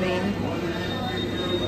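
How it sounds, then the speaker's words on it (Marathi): A passenger train pulls out of Surat station, heard from inside as a continuous loud rumble of wheels and rail noise, with faint voices mixed in. "सुटली ट्रेन"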